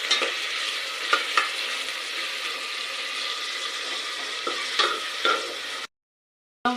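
Mint and coriander leaves fry in a pan for a moong dal khichdi, a steady close sizzle with occasional spoon scrapes while being stirred, cutting to silence near the end.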